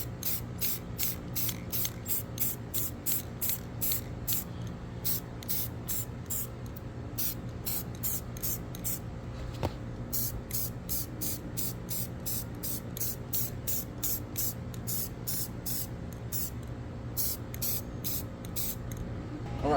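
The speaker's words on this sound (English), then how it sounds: "So we are now ready to apply our first coat of gloss black." Gloss black paint is sprayed in a long run of short bursts from a rattle can, each hiss separated by brief pauses, close and fairly quiet with no talk.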